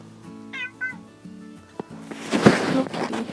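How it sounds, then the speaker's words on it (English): A pet cat meows indoors, with two short, close, rising calls in quick succession. Quieter rustling and handling noises follow near a person who is crafting paper art. "my kitty's talking to me over here"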